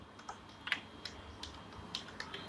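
Python code typed on a computer keyboard, a quiet, close run of irregular key clicks at a steady pace, with no voice over it.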